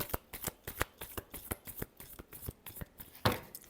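Tarot cards shuffled by hand in a rapid run of crisp riffling flicks, close and alone, closing on one louder bridging slap near the end.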